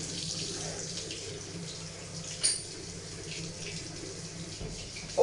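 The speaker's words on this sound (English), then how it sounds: "wash your hands thoroughly" Hands wash under a kitchen tap, with a steady rush of running water splashing into the sink throughout, close and even, broken by a soft knock near the middle and another at the end.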